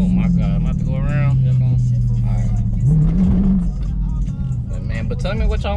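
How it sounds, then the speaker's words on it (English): A Dodge Scat Pack with a 392 engine idles loudly and revs up, a deep rumbling throb that swells briefly, while someone talks over it. "look at the sound of my car."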